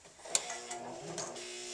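A sewing machine stitching bias tape onto a placemat runs briefly and quietly, a soft whirring patter of the needle with one sharp click near the start, heard alone.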